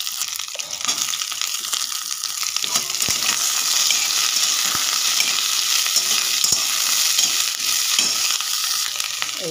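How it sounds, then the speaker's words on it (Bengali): Cauliflower, carrots and beans fry in a pan with a steady, close sizzle that runs unbroken throughout, joined by occasional scraping and clinks of stirring and no talking. "এবার বিনসটা আর গাজরটা দিয়ে এটা একটু নেড়ে নেবো ভালো করে।"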